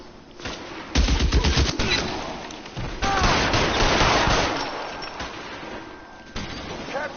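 Gunfire in the crime video game L.A. Noire comes as rapid, rattling bursts and scattered single shots amid chaotic game noise, moderately loud and sustained through most of the stretch.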